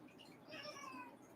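A pet cat meows indoors, one or two drawn-out mid-pitched calls that rise and fall, fairly quiet and close against a faint room background.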